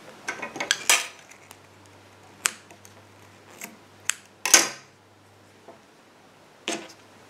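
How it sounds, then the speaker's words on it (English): Scissors snipping a loose end of crochet yarn, a few sharp metallic clicks and snips spread across a quiet background, with one louder cut near the middle. "I'm going to go ahead and cut my loose yarn end"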